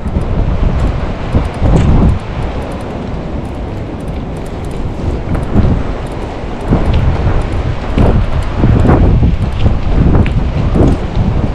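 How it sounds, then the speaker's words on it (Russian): Strong gusts buffet the microphone on a seaside embankment in the evening, a loud, continuous roar that swells and eases in waves throughout, with no voices. "Так, сильный ветер"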